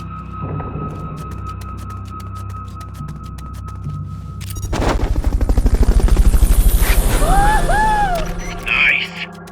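A Fulton recovery helicopter in the video game Metal Gear Peace Walker, its loud rotor thumping building in rhythmic beats, with game tones and chirps over it and fainter effects before.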